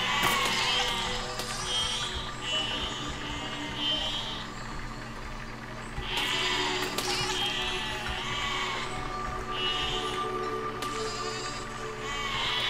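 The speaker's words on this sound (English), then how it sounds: "Now, how do I get these sheep?" Sheep in the video game Besiege bleat repeatedly in short, nasal calls, several overlapping at a moderate distance over a steady ambient background.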